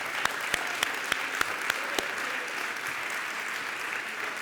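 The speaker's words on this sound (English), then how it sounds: "So please give them a big round of applause." Audience applause at a concert by Sandeep Das and the HUM Ensemble, a steady dense clapping from a crowd that fills the hall throughout, with a few sharper individual claps standing out near the start.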